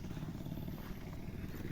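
Two-stroke Kawasaki Ninja motorcycle engine idling steadily up close, a continuous low burbling throb with fine clattery texture and no talk over it.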